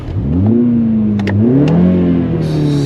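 A 2021 Mini Countryman Cooper S in sport mode revs its engine, rising and falling in pitch across two swells, loud and close with no voices.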